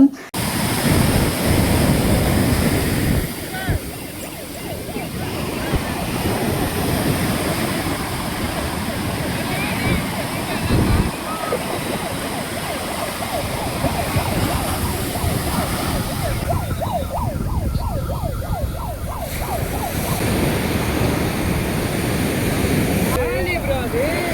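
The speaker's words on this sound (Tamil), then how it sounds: "அலையோட சவுண்ட்லாம் கேட்க பயங்கரமாக இருந்ததுங்க" Ocean waves wash up on a beach in a steady, loud roar of surf that swells and eases without a break for the whole stretch.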